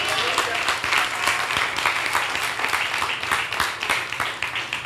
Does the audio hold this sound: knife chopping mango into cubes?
no